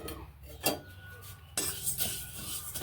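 Whole fennel, fenugreek, cumin and dried chillies tip into a wok with a couple of light metallic clinks and a sharp scrape, followed by soft rattling and handling noise.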